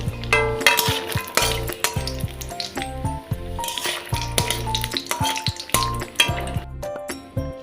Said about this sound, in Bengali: এবার আগে বড়িটা ভেজে নেব বড়িটা ভেজে নিচ্ছি